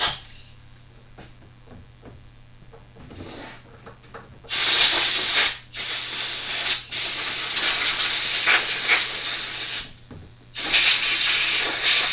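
Compressed air hisses as it blasts clean a carburetor from an Earthquake E45. After a quiet start it comes in long, loud, close bursts separated by brief pauses.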